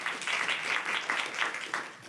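An audience claps after a pair of medical talks on buprenorphine for acute pain, a short burst of moderately loud applause with uneven pulses of hands, heard alone without speech.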